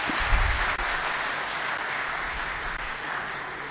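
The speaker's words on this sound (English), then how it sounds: "we need to give Azhar Saab and the past president a very big round of applause" Steady, dense applause from a conference audience in Lahore, even and sustained throughout at moderate loudness, with no other sound rising above it.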